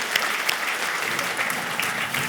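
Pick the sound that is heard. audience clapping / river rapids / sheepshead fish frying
audience clapping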